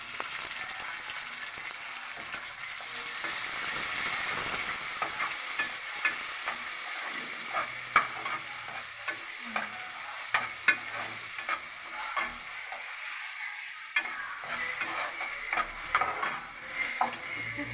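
Onion, garlic and tomato frying in a pan, a soft steady sizzle broken by the repeated scrape and clack of a spoon stirring, close and fairly quiet with no talking.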